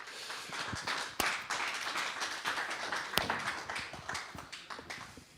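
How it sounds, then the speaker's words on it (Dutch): A modest crowd applauds at an equestrian centre's Starter of the Year 2020 event, a moderate patter of clapping with a few sharper, louder claps standing out. "Geef er een groot applaus ook."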